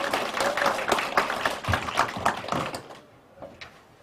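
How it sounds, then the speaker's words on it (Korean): An audience at a policy forum on eco-friendly farming in Goyang claps in a burst of dense, quick applause that holds for a few seconds, then thins to a few scattered claps and dies away. "이렇게 함께해 주신 두 분 의원님께도 좀 힘내시라고 응원의 박수 한번 해주시면서"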